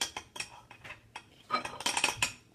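A spoon clinks and scrapes inside a coffee cup while stirring butter slime, with irregular clicks that grow denser and louder toward the end, close by and without talk.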